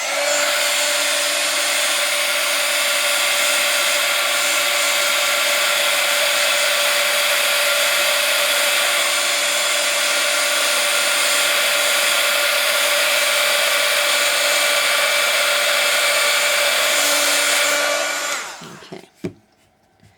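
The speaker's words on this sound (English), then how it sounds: "now I'm going to dry this just a tad" A hair dryer blows steadily on a mixed media artwork, a loud continuous whir with a whining tone that runs unbroken until it clicks off near the end, followed by a brief spoken word.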